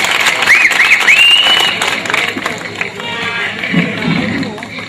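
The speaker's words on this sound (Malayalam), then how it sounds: "ഒന്ന് കൈയടിക്ക" Audience applause at a Malayalam comedy stage show: a burst of crowd clapping and cheering that swells and then tapers off, with a whistle near the start and voices mixed in.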